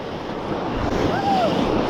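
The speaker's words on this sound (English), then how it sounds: "That was a big wave." A big wave on continuous river rapids in the Northwest Territories, Canada, rushing steadily around paddlers in inflatable boats, with wind noise on the microphone and a brief whooping voice partway through.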